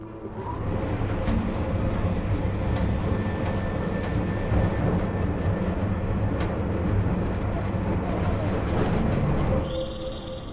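A helicopter in the video game Deus Ex Mankind Divided roars in a continuous loud, rumbling drone amid a sandstorm, steady for about ten seconds before cutting off.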